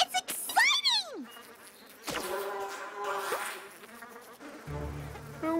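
Cartoon bees buzz in an animated pony show, a busy droning hum with sliding cartoon sound effects and a character's voice around it.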